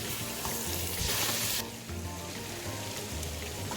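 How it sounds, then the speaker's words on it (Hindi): Ginger and garlic paste frying in a pan for a green chicken karahi gives a steady, close sizzle with brief surges as it is stirred, loud and alone without talk. "साथ ही मैं इसमें 1 टीस्पून अदरक पेस्ट डाल रही हूँ, 1 टीस्पून लहसुन पेस्ट, और इसे मजीद थोड़ा सा फ्राई करूंगी 1 मिनट के लिए"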